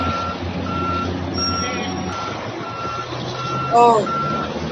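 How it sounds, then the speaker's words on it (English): Fire truck responding to a burning Boeing 777 airliner at an airport, with repeated high electronic beeps over a steady engine rumble, a short chirping sweep near the end and a voice faintly audible underneath. "You can see the fire truck just rushing to save the aircraft."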